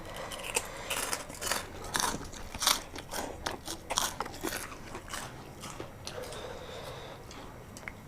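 Close, crunchy chewing and biting while eating apple snails with spicy papaya salad, giving an irregular run of sharp crackling bites and wet mouth sounds with no talking.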